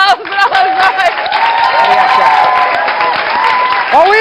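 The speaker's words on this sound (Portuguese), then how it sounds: "Um grande aplauso para os dois." A studio audience on a Portuguese TV variety show applauds two guests, the steady clapping mixed with cheering, voices and tonal music-like sounds over the whole stretch.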